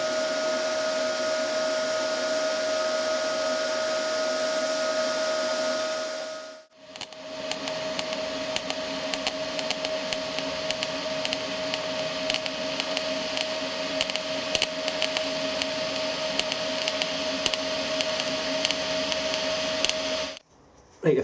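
Scratch-start arc welding on steel with an R-Tech MIG180 welder: a harsh, steady crackling buzz runs for about fourteen seconds after a sharp start, preceded by a constant tonal hum and ending abruptly.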